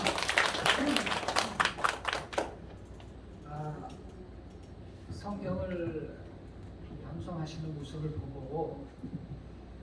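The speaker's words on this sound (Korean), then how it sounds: "큰 박수로 모시겠습니다" Audience at a church recitation contest clapping to welcome the pastor, a short burst of dense applause that fades out within a couple of seconds, followed by someone speaking alone.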